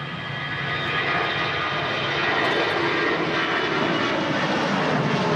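An EasyJet airliner at Manchester Airport gives off a steady, loud jet-engine roar. The broad rumble holds constant and swells slightly toward the end, with no voices over it.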